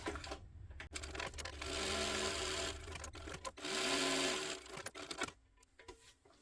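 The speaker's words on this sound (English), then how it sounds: "I just want to top stitch this" A sewing machine top stitching vinyl runs in two bursts of steady whirring, one of about a second and one of about two seconds, separated and followed by handling knocks and rustles.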